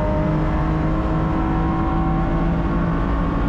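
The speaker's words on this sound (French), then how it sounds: "on va pousser un peu plus ces rapports, 5e vitesse." A BMW M4 GT4 race car accelerates through its gears, its engine a loud, continuous, close-up drone with no pauses and no voices.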